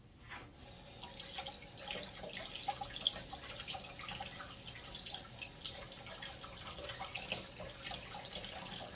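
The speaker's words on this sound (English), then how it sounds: "So we're going to give these a good rinse." Fresh tomatillos get a rinse under a running kitchen tap, a soft continuous splash of water with faint dripping, fairly quiet and steady throughout.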